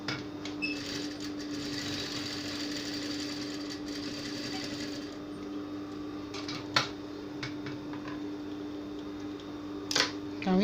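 A sewing machine stitches an A-line gown, running in a steady rapid whir for several seconds, then stopping, followed by a few sharp clicks and handling knocks close by.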